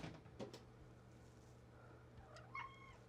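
An indoor cat meows faintly near a sewing and fabric-cutting setup. A short, quiet meow comes late, preceded by soft knocks and rustling in a quiet room.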